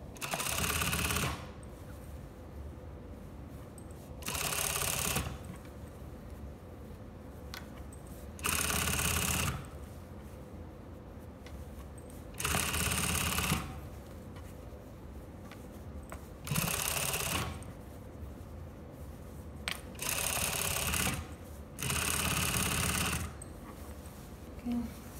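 A sewing machine stitches the neckline of a lined dress in about seven separate bursts of steady whirring, each a few seconds long, with quiet pauses between them while the needle is lowered and the fabric pivoted.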